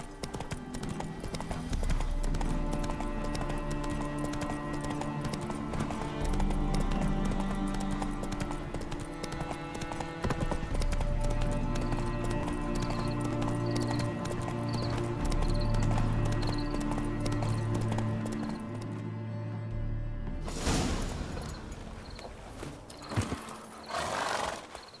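Rhythmic horse hoofbeats clatter steadily at a gallop over background music in the video game Witcher 3: Hearts of Stone, with the horse whinnying briefly near the end.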